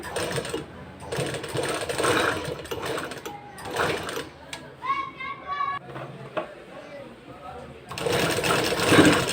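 Sewing machine stitching thread piping onto cloth, loud close bursts of fast mechanical whirring alternating with someone talking, children faintly audible in the background.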